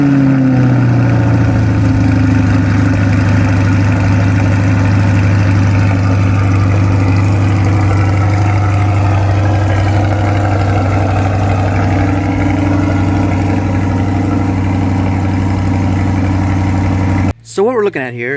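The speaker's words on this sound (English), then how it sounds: "But first, we got to move the Corvette." A Chevrolet C8 Corvette's engine idles and rumbles steadily as the car is moved, a loud, close, continuous low drone that breaks off abruptly near the end.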